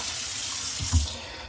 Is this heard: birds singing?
no